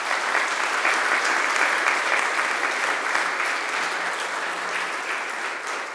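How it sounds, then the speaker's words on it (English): A large audience at a spiritual satsang gathering at an ashram in Fiji breaks into sustained, dense applause, loud and even throughout with no talk over it. "this deserves a round of applause"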